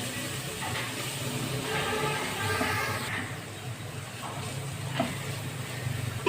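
Masala for prawn karahi sizzling and frying in a pan, a steady moderate crackle with occasional stirring scrapes throughout.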